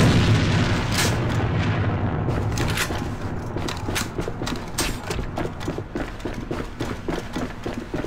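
Grenade blasts and gunfire in the competitive shooter Alliance of Valiant Arms: a heavy boom early on, followed by a run of sharp rapid shots and thuds at moderate loudness.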